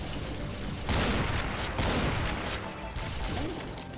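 The super shotgun fires in the video game Doom, giving several loud, punchy double-barrel blasts spaced about half a second to a second apart over a constant backdrop of gunfire and combat noise.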